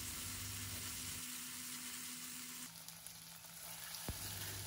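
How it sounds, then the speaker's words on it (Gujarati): Garlic chutney and chilli sizzle steadily in hot tempering oil over a low flame for vaghareli rotli, a continuous close broadband frying hiss with a brief sharper crackle near the end. "ગેસની ફ્લેમ એકદમ સ્લો રાખવી જેથી સરસ રીતે ચટણી સંતળાય અને બળી ના જાય"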